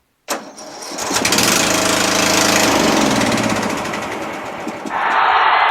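A Yard Machines MTD riding lawn tractor engine cranks and fires, catching abruptly and roaring up to a loud, steady close-up run, then dipping briefly before a rise in speed, with no talk.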